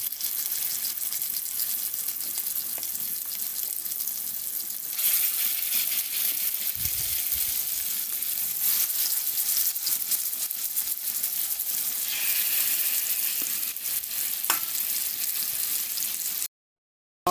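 Chicken pieces for Jamaican curry chicken frying in a pot of hot oil, giving a loud, continuous close-up sizzle. It briefly intensifies around the midpoint, with occasional clinks and scrapes and no talk.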